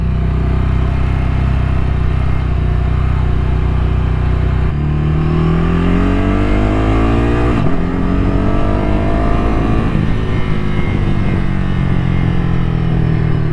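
A Ducati Scrambler Nightshift motorcycle revs hard close up, its engine note climbing through the gears with crisp quick-shifter changes that cut in briefly before each rise, loud and continuous throughout.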